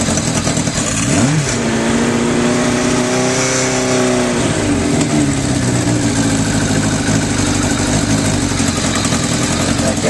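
A 1982 Kawasaki KZ1100 motorcycle cranks and fires up, then settles into a loud, steady idle with a brief rev whose pitch rises and falls. The engine runs close by without any talking.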